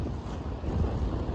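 Gusty north wind blows across the shore of the sea at Buzovna and Novkhany near Baku, with waves washing in as a steady, low rushing roar over a brief stretch.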